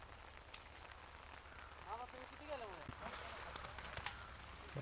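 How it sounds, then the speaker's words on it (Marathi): Light, slow rain patters faintly on a sugarcane field on a rural Indian farm, a soft steady hiss of drops with a voice talking briefly partway through. "तर असा हा पाऊस आहे."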